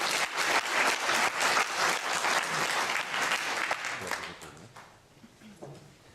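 An audience at an evening Jaina Studies lecture gives sustained applause, dense clapping that holds steady for several seconds, then thins out and fades near the end.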